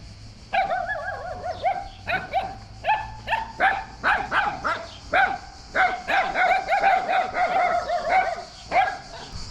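Several dogs bark, yip and whimper in rapid, overlapping bursts near an abandoned-looking building in Tskaltubo, Georgia, the loud agitated chorus running almost continuously with brief pauses.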